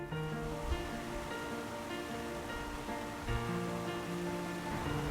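Water flows through the garden water features at Denver Botanic Gardens, a soft, steady wash that continues without a break and stays quiet and even throughout.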